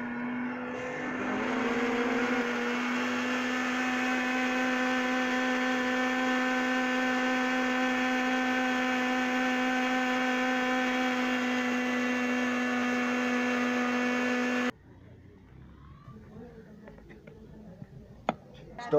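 Blender grinding strawberries for a strawberry milkshake, a loud steady whirring motor that holds for about twelve seconds, then cuts off abruptly, leaving faint clinks.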